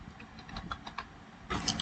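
Keys clack on a computer keyboard as IGST is typed into Tally Prime accounting software: a handful of separate, light clicks, then a louder quick cluster of keystrokes near the end, with no speech.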